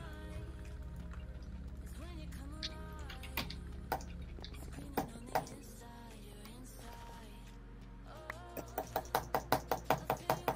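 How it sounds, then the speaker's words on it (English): A computer mouse is slammed on a desk: scattered dull thumps, then a quick run of about a dozen sharp knocks near the end, close and fairly loud. "And you're slamming your mouse again."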